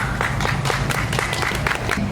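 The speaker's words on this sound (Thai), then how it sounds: "ขอเสียงปรบมือครับ" An audience at a ceremony where a temple abbot hands out relief bags applauds, dense continuous clapping filling the space at steady loudness, with a low crowd murmur beneath.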